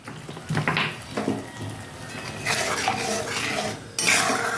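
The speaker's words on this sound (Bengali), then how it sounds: "দিয়ে আবারও আমি একটু মিক্স করে নেব" Pointed gourd being stirred in a pan with a metal spoon, giving repeated scraping and clinking strokes of utensil on cookware, close and fairly loud, with no talking.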